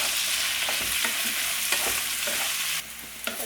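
Salted onions sauté in a pan for a Malabar chicken curry, giving a steady close sizzle broken by repeated scraping stirs, with no talking.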